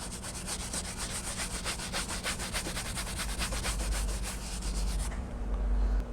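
A brush scrubs dirt off a car's interior door panel in quick, rhythmic back-and-forth strokes, close and brisk, ending abruptly as the scrubbing stops.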